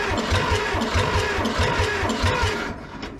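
A 1970s John Deere 310 backhoe's diesel engine, long idle, cranks over on the starter with a steady rhythmic chugging pulse, loud and close, holding throughout before easing slightly at the end.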